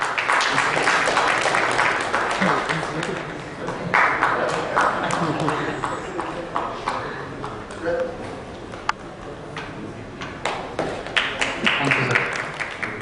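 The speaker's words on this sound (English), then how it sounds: "A round of applause for us." Audience applause at a banking and finance conference, a continuous patter of many hands clapping for several seconds, mixed with talk and a few sharper claps near the end.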